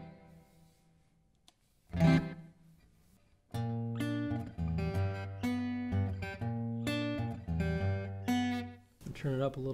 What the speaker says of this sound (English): I'll keep the small room reverb on